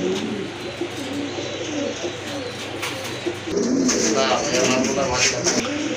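Pigeons cooing close by in a loft, soft repeated throaty coos that grow fuller and more overlapping in the second half, with someone speaking over them.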